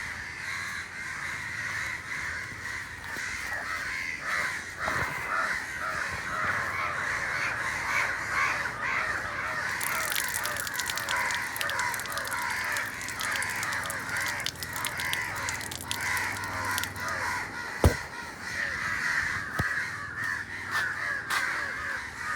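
Crows caw loudly and repeatedly, several birds calling close by in a steady, overlapping chorus that continues throughout with no talking.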